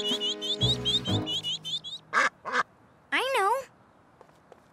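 Cartoon ducklings let out a run of high, rapid quacks, followed by a few louder, wavering quack calls, with a brief spoken line among them.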